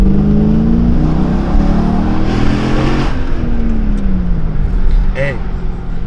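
A car engine revs hard and climbs in pitch through an acceleration, then drops back, loud and close with steady engine roar throughout.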